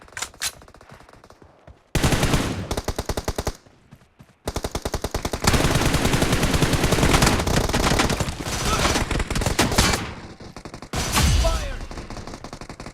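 Rapid automatic gunfire from a shooter video game, in long loud bursts with brief pauses between volleys, with faint voice chatter underneath.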